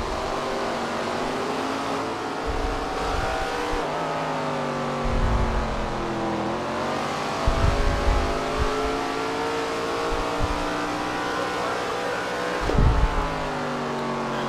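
Race car engine on the asphalt Walnut Creek track in SRX The Game, loud continuous whine with shifting pitch as it accelerates and drops through gear changes, several thumps, no talk.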